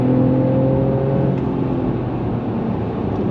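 A Mercedes-AMG E53 (W213) engine revs hard up to its 6,500 rpm red line, a loud steady rising drone with harmonic whine that holds high before easing off, heard from inside the car with no talking.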